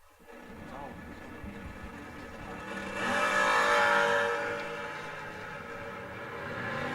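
Camaro race cars launch at a memorial drag racing event, engines building to a loud roar that swells and fades as they pull away, with an announcer talking throughout.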